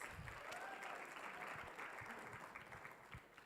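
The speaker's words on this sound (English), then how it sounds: "Can we please give them one more round of applause?" Steady applause from an audience, a dense patter of clapping that holds its level for a few seconds before starting to thin out.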